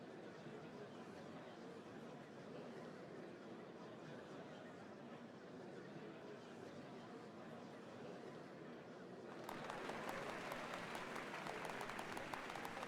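A crowd applauds in Final Fantasy XIV, a faint continuous patter of clapping that swells louder toward the end.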